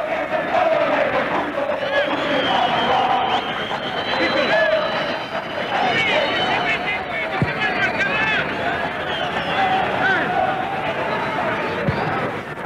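A football stadium crowd at a Boca Juniors home match in 1989/90 against Gimnasia, a loud continuous roar with chanting and whistles that stays steady throughout, with commentary heard over it.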